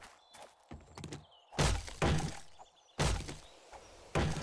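Heavy axe melee blows landing in 7 Days to Die: a series of sharp, loud thwacks and cracking impacts spaced irregularly about a second apart, with softer thuds between them.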